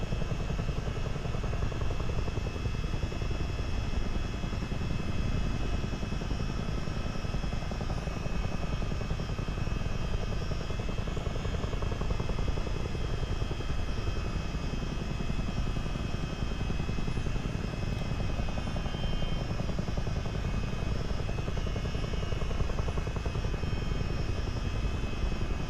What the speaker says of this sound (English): Those turbines running and the transmissions, you can hear them just whirring away there